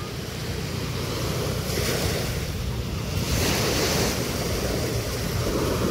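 Ocean waves washing in on a shore, a steady loud broadband roar with surging swells and wind buffeting the microphone throughout, no clear talking.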